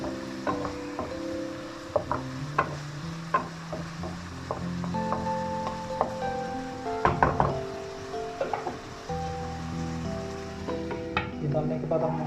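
Chicken macaroni with spices being stirred in a frying pan, a steady sizzle broken by repeated utensil scrapes and knocks against the pan, close and moderately loud, with music playing underneath.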